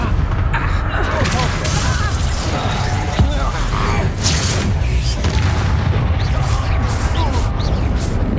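Confringo blasting spell going off in Hogwarts Legacy: loud, dense booming and crashing effects with rumbling impacts that fill the whole stretch, mixed with battle sounds and a voice in the background.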